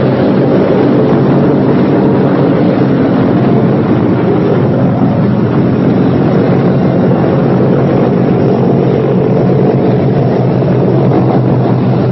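Four radial engines of a 1943-era B-17 bomber run up on the ground before shutdown, a loud, steady, close droning roar with a deep throbbing hum that holds unbroken throughout.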